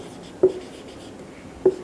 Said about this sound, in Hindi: यहां पर मैंने एक सिंपल सेंटेंस लिख रही हूं।